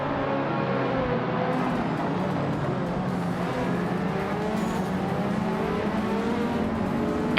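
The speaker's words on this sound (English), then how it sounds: "the race kicks off at Wakefield Park with the 1980s supercars" 1980s supercars, including a 1987 Ferrari F40, race at Wakefield Park in a racing video game, with engines droning loud and continuous, overlapping roars and occasional tyre squeal, and no voices.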